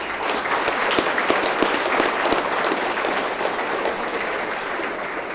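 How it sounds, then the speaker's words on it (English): Audience at an FFA chapter banquet applauding steadily, a dense wash of many hands clapping at even loudness throughout with no talk over it. "Let's give them all a round of applause."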